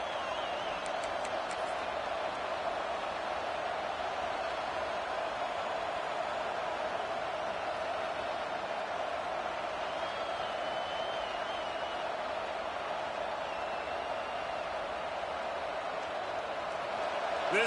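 A football stadium crowd roars as a steady, dense wash of cheering and noise that holds constant throughout, with a commentator's voice talking over it.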